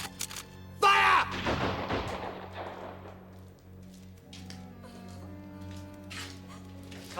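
A rifle volley fired by a firing squad cracks out as one loud burst near the start, followed by a rumbling decay and a quieter steady background.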